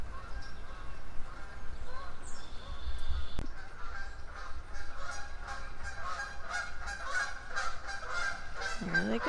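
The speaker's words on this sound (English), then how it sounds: "those geese know something's coming" Distant geese honk repeatedly in a loose chorus, faint calls overlapping across the whole stretch amid outdoor background noise.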